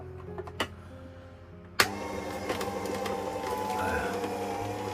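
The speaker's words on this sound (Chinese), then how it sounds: "山上的水果都冻了，我给它榨汁儿" Inside an RV, an electric juicer kicks on abruptly after a few light clicks and handling sounds, then runs with a steady, loud motor whir while it grinds frozen apples and pears.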